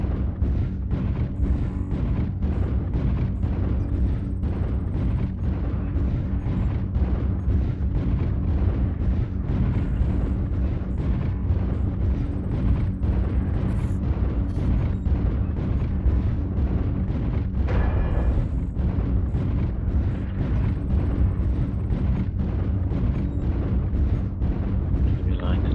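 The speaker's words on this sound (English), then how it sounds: "airstrike online" Airstrike explosions in the video game MechWarrior Online, on a polar map, form a continuous heavy rumble of overlapping booms and blasts, loud and unbroken throughout, with a voice faintly present under the din.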